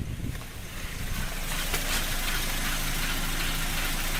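A car runs with its engine going while a wheel makes a dull, continuous grinding, scraping noise, heard up close as a steady rumble with faint metallic hiss on top.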